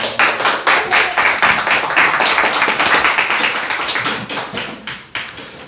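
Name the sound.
applause welcoming a speaker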